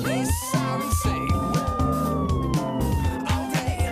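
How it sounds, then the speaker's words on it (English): A police siren wails in a long rising and falling tone, loud and near, mixed with other sounds that come and go around it. "and police sirens say"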